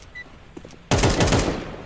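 Rapid automatic gunfire from a newly picked weapon in a shooting video game, a sudden loud burst of closely spaced shots after a quiet lead-in, firing continuously to the end.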